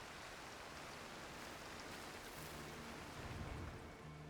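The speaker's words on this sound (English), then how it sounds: "Why is the rain back? It was raining a minute ago." Rain falls in the rock climbing video game Cairn as a faint, steady broadband hiss of drops, with no talk over it and a slight swell near the end.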